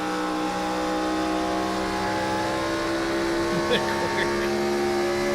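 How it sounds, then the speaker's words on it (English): A race car engine idles in the clutch at Kentucky in a racing video game, a steady, sustained mechanical drone with layered harmonic tones held at an even level throughout. "Listen to that car just in the clutch."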